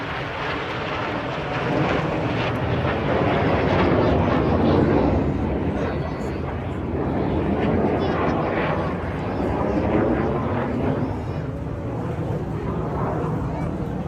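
Red Arrows jets dive and pass low at the Blackpool Airshow. A loud, sustained roar swells and fades as the aircraft go by, under a commentator's voice.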